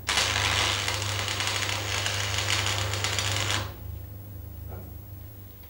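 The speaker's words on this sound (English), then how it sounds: "Strike the arc at the end and move inwards to make a tack weld about 10 millimeters long." Arc welder laying a short tack weld, about 10 mm long, into the corner of a steel joint: a loud, steady crackling sizzle that runs for several seconds and then cuts off abruptly, leaving faint room noise.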